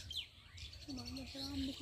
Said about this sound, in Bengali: পাখির আওয়াজ ভালো, কি সুন্দর পাখির আওয়াজ